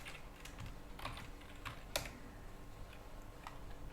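Light clicks of TypeScript being typed on a computer keyboard, a quiet, uneven patter of keystrokes with one sharper tap, close and alone against a faint background hum.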